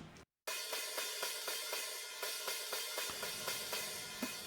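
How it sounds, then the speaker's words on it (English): A hi-hat ticks in a steady, even pattern, every hit the same loudness and tone, dry and close with no variation. "So the hi-hat with no treatment is just the same hi-hat at the same velocity"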